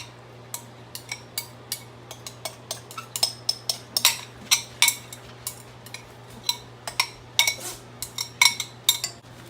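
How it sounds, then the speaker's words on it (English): Beaten eggs are whisked into a melted mixture in a bowl for a keto New Year's recipe, giving a steady run of sharp utensil clinks and scrapes against the bowl, close and moderately loud, with no talking. "Okay, I've dumped the eggs in here. I'm gonna get them mixed up really good."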